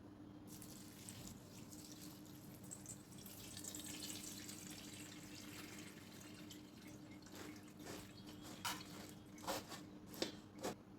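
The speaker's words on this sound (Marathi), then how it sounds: "आता आपल्याला पोहे धुवून घ्यायचे।" Thick poha flakes being washed in water in a kitchen, with trickling, dripping water and a few sharper splashes and drips toward the end, fairly quiet and with no talking.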